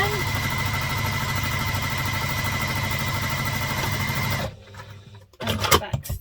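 Sewing machine back stitching the interior front panel of a laptop briefcase, a loud, steady motorized hum with rapid needle clatter that runs for several seconds, then stops abruptly before a person starts talking.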